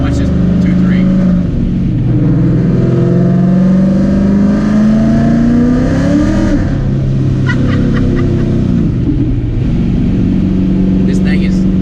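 A 2014 Ford Mustang 5.0 fitted with a Paxton supercharger and making 832 wheel horsepower accelerates hard and shifts from second to third, a loud, sustained engine roar with a pitch drop at the shift and someone talking over it.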